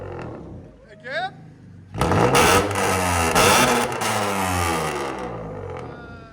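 Loud revving from an Acura car fitted with a custom exhaust: a short blip, then sustained, roaring revs close by that hold for several seconds and ease off slightly.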